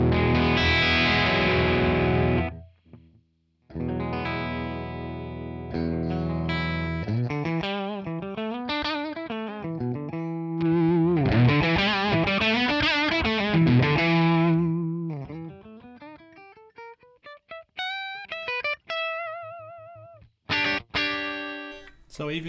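An electric guitar played on the bridge pickup through a Tonex ONE amp capture rings out distorted, with sustained chords, bent notes and sliding lead lines, then choppy stops where the noise gate clamps down near the end.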